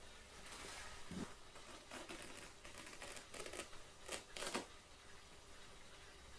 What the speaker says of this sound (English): we'll try and cut some circular pre-filter pads out of this